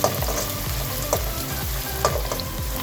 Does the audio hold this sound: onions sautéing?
yes